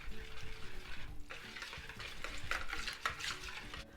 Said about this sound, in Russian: И все это перемешиваю.